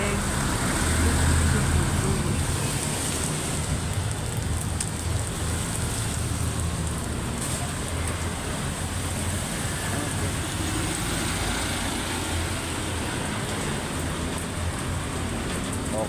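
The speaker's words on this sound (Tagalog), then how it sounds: "Cause it's been raining in Manila." Steady rain falling in Manila, a continuous broadband hiss with road traffic rumbling underneath, even and fairly loud throughout with no talk over it.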